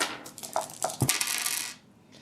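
Plastic dice rattle and clatter as they are drawn from a cloth dice bag during a Dice Masters tabletop game, a close run of several bright clicks and rustles lasting about a second and a half before fading to quiet.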